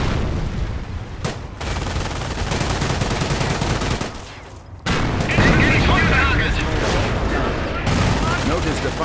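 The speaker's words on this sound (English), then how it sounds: "Notice the Panzer's slow rate of fire." A Panzer tank fires in the Company of Heroes video game, booming shots sounding around the five and eight second marks within dense, loud battle noise of gunfire and explosions.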